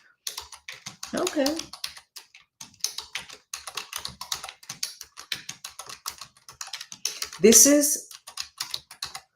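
Typing on a computer keyboard while writing in an online chat: quick, irregular runs of light key clicks close by, with a person speaking over parts of it and a louder burst of voice near the end.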